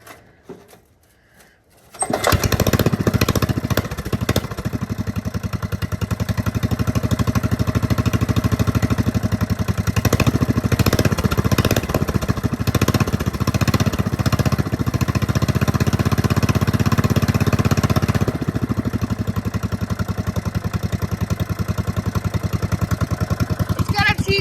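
After a brief quiet start, the engine of a racing mower fitted with a Chinese carburetor fires up and warms up, holding a loud, steady, rumbling idle close by for over twenty seconds.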